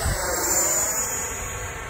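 An FMS 90mm Avanti electric ducted-fan RC jet on 8S power screams at full throttle, a steady high-pitched whine with a slight downward pitch sweep as it passes, a little distant.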